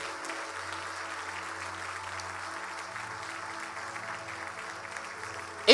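A church congregation applauds during a morning service, a soft, distant, even wash of clapping held for several seconds, with a sharp knock at the very end.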